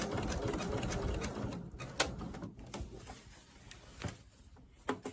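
A sewing machine stitching embroidery on a messenger bag, stitching along with a ruler foot, runs in a dense, steady whir close by, with a few brief clicks and knocks and no talking.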